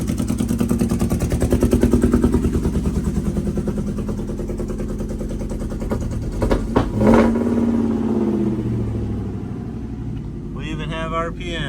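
A Ford Coyote V8 swapped into a 1972 Ford F250 runs close by with a steady pulsing idle and rises briefly in a rev, while someone talks over it.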